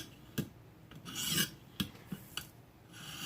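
A karambit knife blade rasps across abrasive grit in a handful of separate strokes, each a short dry scrape with small gaps between them, close and fairly loud, with no talking.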